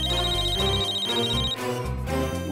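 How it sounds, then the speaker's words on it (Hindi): A telephone rings with a repeated electronic ringtone melody in a crime drama scene, loud and close, playing continuously with rhythmic pulsing tones. "मुझे भी फोन आया।"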